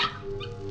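Dog barking at night, one short muffled bark or yip under a low background hum in a radio drama.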